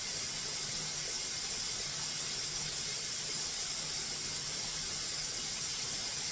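A pressure canner loaded with taco beans vents steam in a continuous, even hiss that holds at a steady moderate level for the whole stretch, with no voices.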